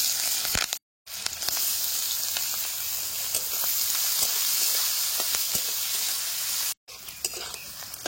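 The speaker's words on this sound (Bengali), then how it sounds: "পেঁয়াজ লঙ্কা মাছ একসাথে ভালো করে নাড়া চেড়ে একটু ভাজা ভাজা করে নিয়ে" Prawns fry in a pan with chopped onion and green chilli while being stirred. A continuous close sizzle and hiss carries scattered scraping clicks and stops briefly twice.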